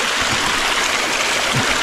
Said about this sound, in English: It's a volcanic hot spring. Look at all the steam coming off this water.